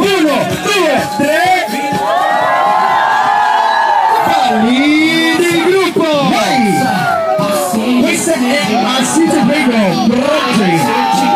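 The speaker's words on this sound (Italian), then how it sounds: "E adesso 1, 2, 3 voglio l'urlo." Wedding party guests shouting and cheering together on the entertainer's cue, a loud dense crowd of mixed voices with whoops and children's shouts, sustained throughout.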